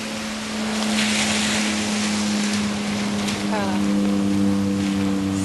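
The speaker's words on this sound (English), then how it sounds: "There's the path of the water coming down the street." Rainwater runs down a street toward a large culvert after a rainstorm, a steady broadband wash of flowing water with a low constant hum beneath it, heard outdoors without talk.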